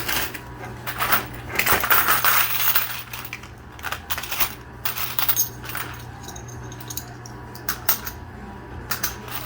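Tokens and coins clatter through a coin pusher machine, with dense metallic jingling and rattling bursts early on, then scattered, sharper clinks and drops over a steady mechanical hum.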